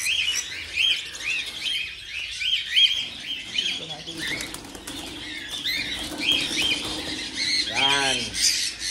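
Birds at a harvest scene chirping and squawking in quick repeated bursts, with wing flaps and a pigeon-like coo near the end, close and lively; a voice speaks briefly in the background.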